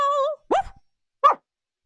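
A human voice imitates the cartoon dog Pluto barking, giving a howl-like drawn-out call followed by two short, separate yelping barks, close and clear against silence.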